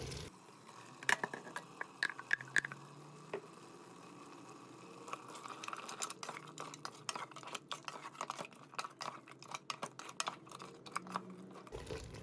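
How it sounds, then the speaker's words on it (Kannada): Ground masala paste fries in a pan for mutton curry, giving soft, close squelching and patter as it is stirred, scattered crackles growing busier toward the end, faint and without talk. "ಈಗ ರುಬ್ಬಿರಂಥ ಮಸಾಲೆ ಹಾಕಿ ಫ್ರೈ ಮಾಡ್ಕೊಳ್ತಾ ಇದ್ದೀನಿ"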